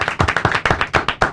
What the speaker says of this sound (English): let's clap it up for Joe Jackson coming on last week